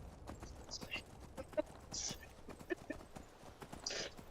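Horse hooves clip-clop at a trot in a video game, with snorts and brief whinny-like sounds over faint background voices.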